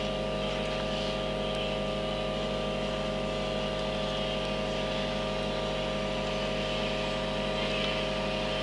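A small aircraft engine runs at 90% power while taxiing, a loud, steady droning hum with a continuous broadband roar that stays close and constant throughout, with no voices heard.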